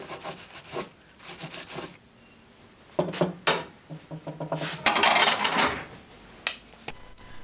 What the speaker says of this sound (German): Und den überschüssigen Leim abwischen.